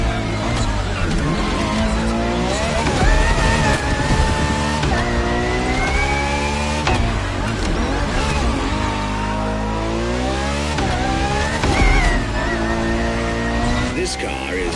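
A Ferrari FXX K, the track version of the LaFerrari supercar, drives a lap with a loud, continuous, high-pitched engine roar that rises and falls through revs and gear changes, and a voice talks over it.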